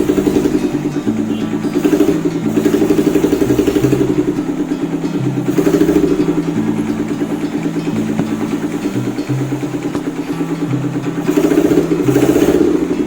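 A Suzuki Thunder 250 motorcycle engine idles just after starting following a long time unused, running close and steady with a rhythmic clattering chug and occasional small swells in speed.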